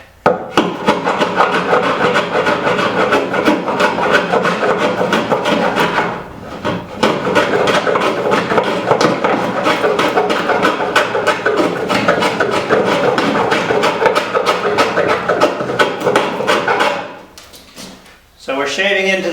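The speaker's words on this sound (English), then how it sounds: "we're going to need to just shave that down a bit" A plywood mast partner on a small PT11 boat is shaved down by hand, giving a continuous close rasping scrape in rapid strokes with a brief pause. Near the end a few knocks follow as it stops.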